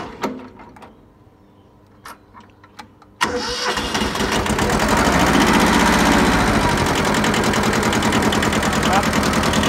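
A Kubota B6000 4WD tractor's diesel engine cranks over after a few seconds of quiet with sporadic talk and clunks, then catches and settles into a loud, close, steady running rumble.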